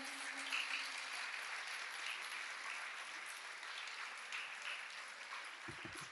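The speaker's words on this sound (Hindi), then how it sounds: "उनके लिए तालियां बजाइए" Audience applause for trainers at a religious discourse gathering, a steady, dense wash of clapping filling the whole stretch at moderate volume, with a brief low thump near the end.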